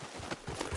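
A horse's hooves clip-clop in Red Dead Redemption 2, a short run of soft, evenly spaced thuds at moderate distance with no talk over them.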